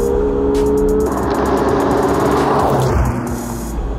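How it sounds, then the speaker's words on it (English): A McLaren 720S sports car accelerating hard, a loud close engine roar climbing in pitch, a sudden gear shift about a second in, then a renewed surge before easing near the end. "I bit my tongue, I was accelerating so hard."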